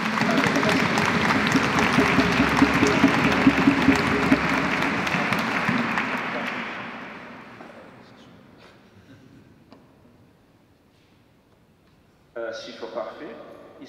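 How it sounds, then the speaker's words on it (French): A church congregation at an ordination Mass in Sainte-Perpétue, Nîmes, applauding warmly for about six seconds before the clapping fades into reverberant quiet, followed by a burst of speech near the end. "Applaudissements pour eux."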